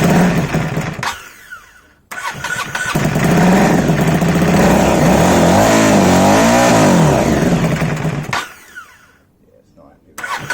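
An Aprilia Shiver 750 motorcycle fitted with a swapped Phoenix ECU revs up loudly and runs roughly for several seconds, then stalls out and goes quiet, with brief restart bursts on either side and voices speaking nearby.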